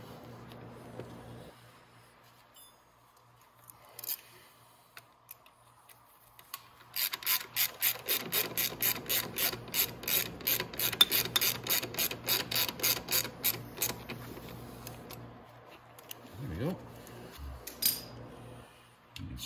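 A ratchet tightening the 10 mm bottom bolt of a motor mount on a 125cc motorcycle, a quiet start then a fast, evenly spaced run of loud clicking strokes, followed by a few scattered metallic clicks.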